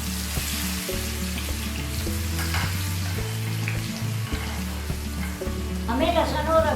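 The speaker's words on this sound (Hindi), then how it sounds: "हमें लहसुन और अदरक को ज़्यादा पकाना नहीं है, थोड़ा ही पकाना है।" Garlic and ginger paste fries in a pan with a little asafoetida, a constant sizzle under a low electronic hum, with a burst of stirring and crackle near the end.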